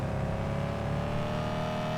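Car engine idling steadily in a car dealership video game, a BMW, giving a constant, fairly loud motor hum with a low droning tone and no voices.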